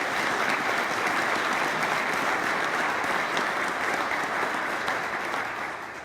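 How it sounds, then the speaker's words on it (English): Dense, sustained applause from a community gathering audience, a continuous wash of many hands clapping at an even level before fading slightly at the close. "So let's take a moment to applaud those wonderful contributions."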